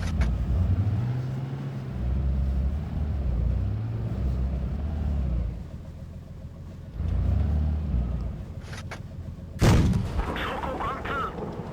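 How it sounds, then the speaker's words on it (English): Jagdpanzer 100 tank destroyer firing its gun in the video game WoT Blitz, heavy engine rumble throughout with a sharp loud cannon blast near the end amid battle noise. "getting some good shots here in this Jagdpanzer 100"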